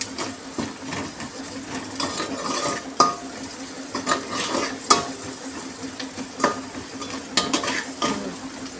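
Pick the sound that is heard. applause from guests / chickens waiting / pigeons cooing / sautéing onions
sautéing onions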